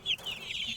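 Month-old chicks give a quick run of high, thin peeping calls, close and fairly soft, over a brief span of under a second.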